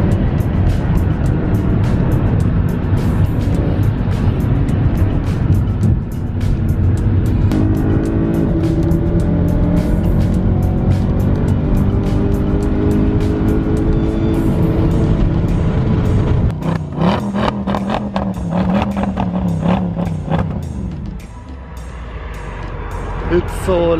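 Ferrari 458 Italia supercar driving on Delhi streets, a loud, close engine roar that climbs through revs and gear changes, then drops and picks up again, with voices talking underneath.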